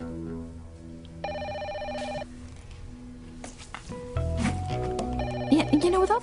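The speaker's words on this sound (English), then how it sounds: "you'd think somebody would answer the phone" An old-style telephone bell rings in repeated bursts while people talk over it in an indoor scene.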